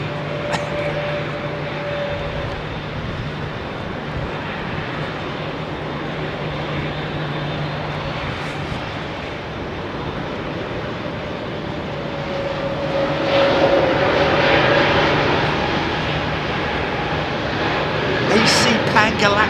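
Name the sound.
airliner jet engines at London Heathrow Airport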